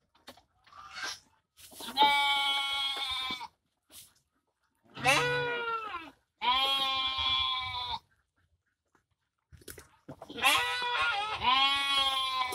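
Several loud, wavering goat bleats close by, coming in bursts with short quiet gaps between them.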